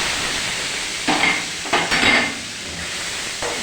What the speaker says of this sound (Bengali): পনিরটাকে ভেজে নেব আমরা।